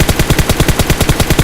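Rapid automatic gunfire from a gun being sprayed in the mobile shooter PUBG Mobile, a steady burst of about a dozen evenly spaced loud shots with no talking.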